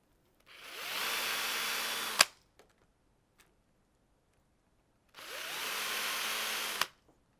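A cordless drill bores screw holes through a door hinge into wood in two separate bursts of steady whirring, each ending with a sharp click and followed by faint taps.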